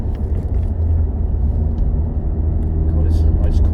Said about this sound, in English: You'll be able to hear the engine sound and stuff like that from the back